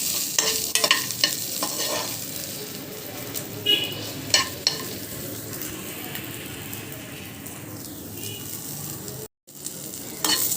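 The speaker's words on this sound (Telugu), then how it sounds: "వెల్లుల్లిపాయలు కూడా వేసేస్తా." Garlic cloves frying in a pan and stirred now and then, a constant close sizzle broken by scraping stir clicks and clatters, with one brief gap of silence near the end.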